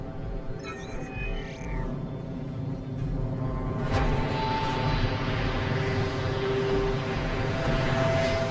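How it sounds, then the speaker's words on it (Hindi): Drones released into the air hum with a steady, fairly loud aircraft-like drone, joined partway through by a rising whine, continuing without talk. "ड्रोन्स रिलीज कर रहे हैं।"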